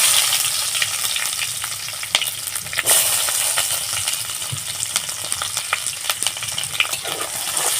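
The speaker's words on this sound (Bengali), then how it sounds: "আমি একটু পেঁয়াজটাকে বাদামি করে ভেজে নেব" Chopped onion fries with nigella seeds and dried red chillies in hot oil, making a continuous loud, close sizzle with sharp crackles and occasional louder spits, steady throughout without any talking.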